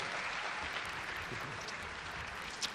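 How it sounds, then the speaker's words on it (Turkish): A studio audience at a Popstar taping breaks into dense, continuous applause, many hands clapping evenly without letup and no voice over it. "Bir büyük alkış daha istiyoruz"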